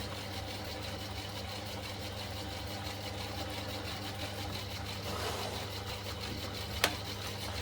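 A metal lathe runs steadily with a low motor hum and a faint whirring mechanical drone, constant and fairly quiet, with a brief sharp click near the end.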